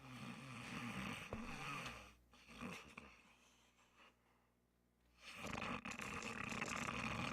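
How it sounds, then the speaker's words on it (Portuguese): A character snoring in the Alan Wake video game: loud, rough, rumbling snores close by, broken by a quieter pause in the middle. "Que ronco feio."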